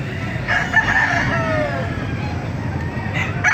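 An eight-month-old Lemon Sweater gamefowl rooster crows once, clearly and nearby, over a steady background din at a Baliuag market.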